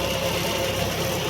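A John Deere 5210 GearPro farm tractor engine idles steadily with a low, even diesel rumble, close and continuous with no talk over it.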